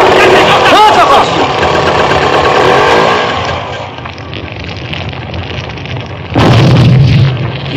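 Motorcycle engine, loud and close, running with a rising revving tone before settling into a lower idle, then surging again near the end.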